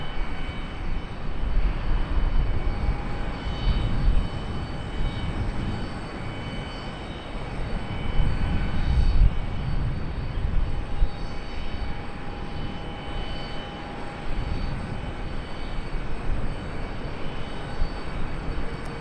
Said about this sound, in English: Delta is hauling across the runway down there.